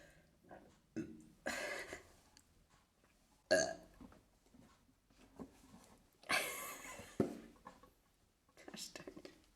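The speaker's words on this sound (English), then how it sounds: "Why do I always have to burp?" A person burps several times, close and fairly quiet, in short gulping bursts mixed with soft breathy vocal sounds.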